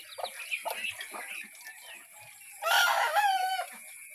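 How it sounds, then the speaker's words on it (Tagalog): Chickens cluck and squawk outdoors in short, choppy bursts, with a louder rising call near the end over a quiet background. "Mga manok nga na sa gawas."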